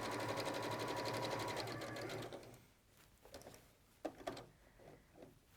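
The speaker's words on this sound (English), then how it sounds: "just pivot that fabric and then continue to sew along the next raw edge" Juki sewing machine stitching fabric: a rapid, steady mechanical chatter for about two seconds, then stopping, followed by a few soft clicks and handling sounds.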